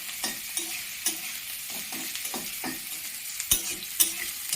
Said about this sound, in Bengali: ঘিতে ভাজা হচ্ছে সব,